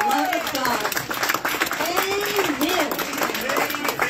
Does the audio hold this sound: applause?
yes